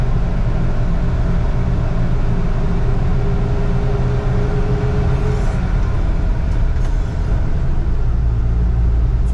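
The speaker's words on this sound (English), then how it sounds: "Pretty fun driving this 75 Landcruiser down here." A 1975 Toyota Land Cruiser drives through a historic downtown shopping avenue, its steady low engine rumble and road noise continuous and close throughout, with faint traffic sounds passing in the background.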